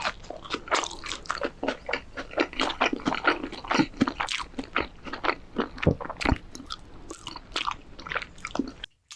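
A McDonald's triple onion burger is bitten and chewed right at the mic, with dense, continuous crunching and wet squishing in quick irregular bites, no talk until a last pause.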